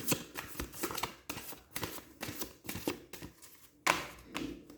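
Tarot cards shuffled by hand during a reading, a series of quiet papery riffles and soft slaps in quick irregular bursts, close and alone without any voice.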